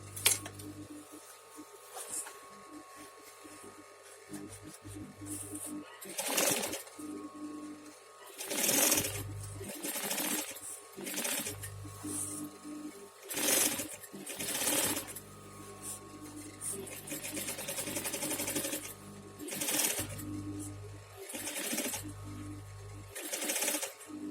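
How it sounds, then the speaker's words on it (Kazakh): Sewing machine stitching a repair on an old bag, quiet, in repeated short whirring bursts separated by pauses and small handling clatter, no voices. "Екі қайтара тігіп шығамыз."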